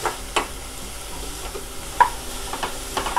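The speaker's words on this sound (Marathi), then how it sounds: "व्यवस्थित परतून घेऊया आता हा कांदा।" Onion sautés in a pan toward browning, a soft steady sizzle under a few scattered spatula scrapes and taps, close and fairly quiet with no talking.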